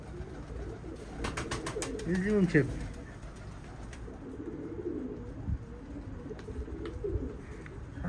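Pigeons coo in a few soft rounded phrases, with someone speaking nearby and a faint background hum.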